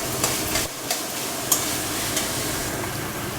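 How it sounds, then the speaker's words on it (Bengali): Onion, ginger and garlic fry in a pan for a Bengali fish-head muri ghonto, giving a steady close sizzle broken by a few sharp stirring clicks. "পেঁয়াজ আদা রসুন ভেজে নিতে হবে একটু।"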